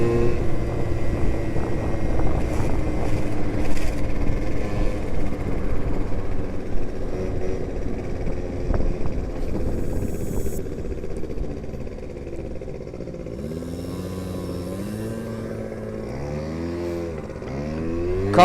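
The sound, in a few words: scooter accelerating and taking off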